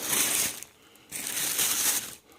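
Cling wrap crinkling and peeling off a cheap choice-grade steak from Ralph's, two bursts of crisp rustling separated by a brief pause, close and fairly quiet with no talk.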